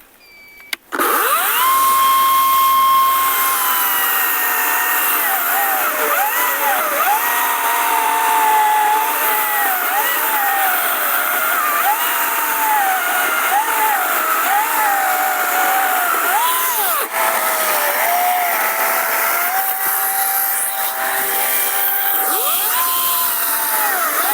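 A cordless saw, either a Vitals AKZ 3606 or a Procraft PK40-2, starts after a short pause and runs loud and steady close by, its motor whine climbing and dipping with load for about twenty seconds.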